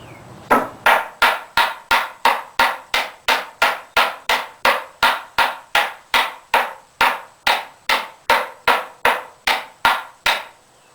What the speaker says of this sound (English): That was scraping and beating to get this just as finely